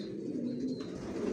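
Johnson line grizzle racing pigeon youngster cooing in a loft, a low steady murmuring drone that runs throughout with a slight lift toward the end, no talk over it.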